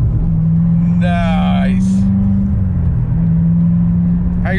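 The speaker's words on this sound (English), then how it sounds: "We're going to do a little pull here. First to second, one finger." A C7 Corvette Z06 pulls hard under acceleration, its deep engine drone rising, briefly dipping at a shift from first to second gear, then pulling on. People talk briefly over the engine.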